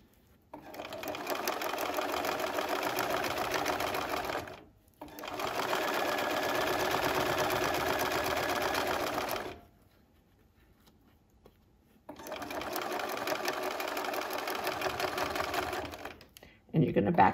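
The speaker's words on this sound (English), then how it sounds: "I am stitching right next to the edge" A home sewing machine stitches along the edge of a fabric potholder in three steady, moderately paced bursts of several seconds each, with short quiet pauses between runs, heard up close.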